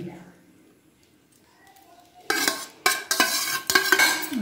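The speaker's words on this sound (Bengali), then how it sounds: "এবার আমি সমস্ত এই ডিমের ব্যাটারটাকে এর মধ্যে ঢেলে দিচ্ছি" Egg and cauliflower batter is poured and scraped from a bowl onto a plate greased with mustard oil, giving a few close clinks and wet scraping sounds after a quiet opening.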